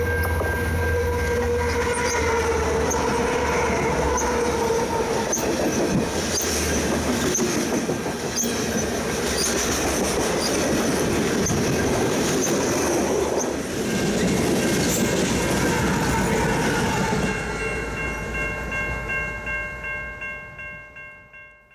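Trains rolling along the Fraser River canyon in British Columbia, a loud continuous rumble of wheels and rail cars with squealing and clatter, steady for most of the stretch before fading away at the end.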